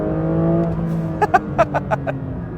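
A 2024 Porsche 911 S/T engine idles with a steady hum, then several quick revs in a row spike up and fall back, close and loud.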